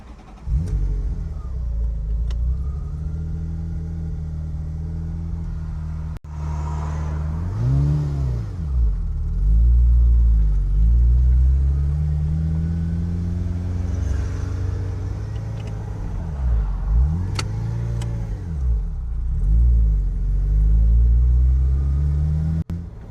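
A Ferrari engine drones and rumbles while driving, revving up and easing off repeatedly, loud and close throughout, with occasional clicks.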